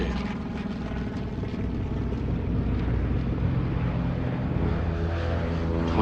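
Low, steady propeller-engine roar of a B-17 Flying Fortress bomber coming in to land with its left inboard engine dead, a dense continuous drone holding loud and even throughout with no voices.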